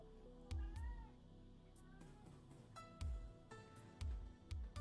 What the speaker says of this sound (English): the cat was making a bunch of noise